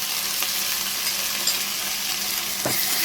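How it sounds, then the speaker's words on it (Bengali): Chopped onion with a paste of garlic, ginger, coriander, cumin, dried chilli and turmeric fries in oil with a continuous close sizzle, broken by a couple of brief scraping stirs, with no speech. "ভালো করে নেড়ে দেবো"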